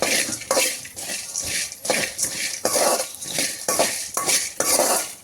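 Cardamom pods frying over low heat in a pan, heard as a run of rhythmic scraping and rattling stirring strokes, close and fairly loud, with only a faint sizzle beneath.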